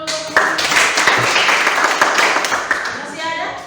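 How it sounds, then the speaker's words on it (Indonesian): A classroom of students claps together for a few seconds, a dense burst of applause that fades out toward the end, with a voice present. "tepuk tangan dulu"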